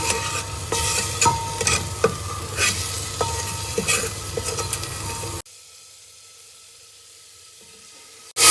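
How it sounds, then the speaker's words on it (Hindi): Masala sizzles and is stirred in a pot for an aloo gosht stew, loud close frying with repeated scraping strokes for about five seconds, then the sound drops to a faint hiss before a final loud burst. "अभी यहाँ पे ना थोड़ा हम मसाला भून लेंगे"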